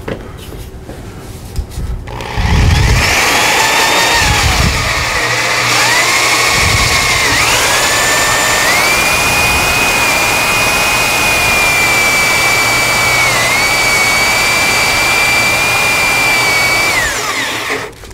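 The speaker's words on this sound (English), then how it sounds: "get the hole saw started in the right place without it drifting at all" A power drill with a hole saw whines loudly and steadily after a few brief starts, its pitch holding high then dipping slightly before stopping.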